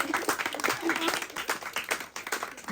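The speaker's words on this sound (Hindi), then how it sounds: "तालियां बजाओ, सारिम साहब के बाल काले हैं।" A small group claps at a casual Eid gathering at home, quick uneven handclaps with voices talking over them throughout.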